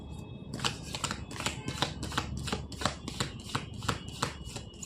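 A deck of tarot cards is shuffled close by in a steady series of soft riffling flutters and snaps, repeating rhythmically throughout.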